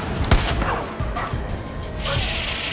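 Bombs go off in Far Cry 5, a sharp close blast followed by rumbling booms and crackling debris, with a hissing burst near the end.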